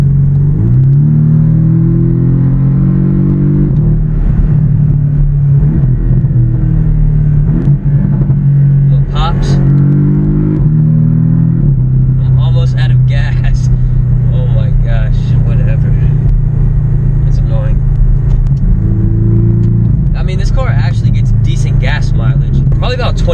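A 2018 Porsche is driven and accelerated, its engine rumbling loud and close throughout with rising revs and gear changes, and a few brief higher-pitched rattles and clicks along the way.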